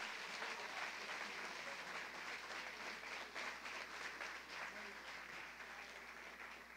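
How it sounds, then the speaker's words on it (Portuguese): A church congregation applauding during a sermon, with broad, continuous clapping that fills the room evenly and holds steady throughout, heard at a moderate distance. "vamos aplaudir ao Senhor"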